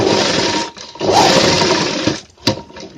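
A sewing machine stitches a second line along a gents' shirt placket, running in loud, close bursts of rapid needle chatter that pause briefly and restart, ending with a sharp click.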